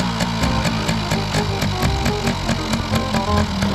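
A Honda Nova RS motorcycle converted for off-road riding runs its engine close by, a loud, rapid, regular putter with evenly spaced pulses throughout.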